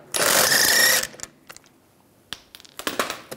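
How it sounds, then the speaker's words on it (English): A socket ratchet spins lug bolts off the wheel of a 1999-2005 Volkswagen Jetta during rear brake work: a loud, close burst of rapid metallic ratcheting for about a second, followed by scattered clicks and clanks of bolts and tools. "use a 17 millimeter socket, take the lug bolts out"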